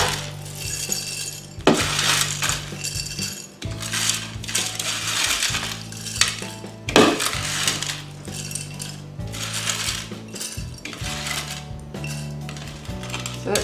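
Shrivelled dehydrated finger eggplant pieces poured into a small 500ml glass jar, producing repeated crunchy, clinking rattles in bursts against the glass, loud and close, with brief pauses between pours.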